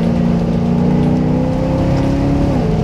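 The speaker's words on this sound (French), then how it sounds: "Le système d'échappement a une valve qui permet d'entendre beaucoup mieux le V8, surtout en rétrogradage." A 2012 Maserati GranCabrio Sport V8 growls steadily through its valved exhaust, a loud, close, sustained engine note that holds a constant pitch before dropping slightly near the end, with no talking.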